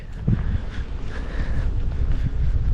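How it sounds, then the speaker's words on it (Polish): Cool breeze buffeting the microphone in a small mountain-valley village in Nong Khiaw, Laos, a low gusty rumble that rises and falls steadily over a few seconds with no speech. "Zimny wiaterek wieje."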